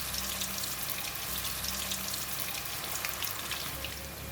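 Cauliflower pieces deep frying in very hot oil, a steady dense crackle and sizzle of bubbling fat, fairly quiet and continuous with no talk.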